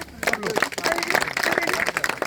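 Audience clapping breaks out at a farming event in Maharashtra as a memento is presented to honoured guests, a dense, close burst of hand claps with voices mixed in throughout.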